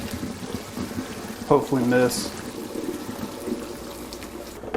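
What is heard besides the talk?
pouring pot of beef pho broth through a strainer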